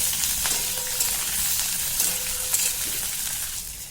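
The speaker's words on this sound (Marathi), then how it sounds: "आता हे छान भाजून घेऊया" Green chillies, garlic cloves and peanuts roasting in a pan for green chilli kharda, a steady close sizzle with faint stirring scrapes running throughout.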